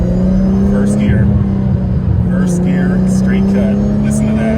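A Nissan R32 GTR with straight-cut gears pulls through first gear, its engine droning steadily loud and close with a constant whine riding over the rumble, while a voice talks over it.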